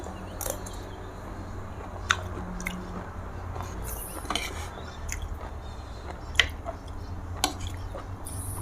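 Black trumpet mushrooms are chewed close up, giving soft, wet squishing bites with a few sharp little clicks scattered through a quiet background.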